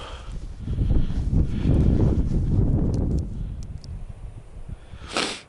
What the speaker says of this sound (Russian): Вот это ветер, блин.